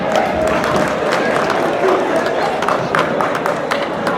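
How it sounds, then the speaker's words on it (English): An audience at a Congo independence day gathering claps and cheers in a steady burst of applause, with voices mingled in the crowd noise. "Let's give a round of applause for Jean-Michel."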